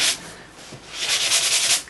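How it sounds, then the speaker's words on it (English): A sanding block rubs back and forth along the edges of a cut paper die piece, a close, dry scratchy rasp in a couple of short strokes, with no talking. "I'm just sanding around the edges using a"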